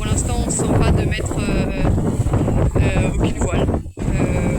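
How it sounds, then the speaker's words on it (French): Strong wind of about 20 knots roars steadily across the microphone aboard a sailboat motoring out of port in a heavy swell, loud and continuous, with water rushing and the boat's noises underneath. "pensait qu'il allait y avoir moins de houle que ça et moins de vent"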